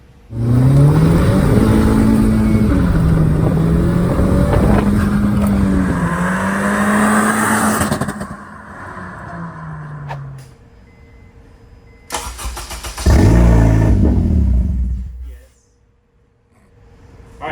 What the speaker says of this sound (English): So fires up and then dies almost immediately because the pump's turned off.